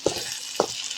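A brinjal stir-fry with masala is stirred in a pan, giving two soft scraping strokes about half a second apart over a faint steady sizzle, close and quiet.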